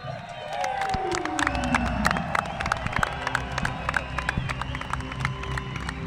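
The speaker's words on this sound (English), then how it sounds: "I'm expecting a massive, massive cheer for the world champion." A crowd at the Roubaix velodrome cheers and claps for the world champion on the podium, a sustained mix of shouts and applause with whistles and a falling siren-like tone sweeping through, while a voice carries over the noise.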